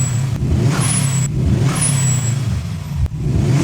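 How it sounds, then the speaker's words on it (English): Turbo engine of a 2011 Subaru WRX with a newly fitted blow-off valve revs loudly, with sharp whooshing releases of air between throttle blips, close and with no talking. "Just like that, we have a blow-off valve installed."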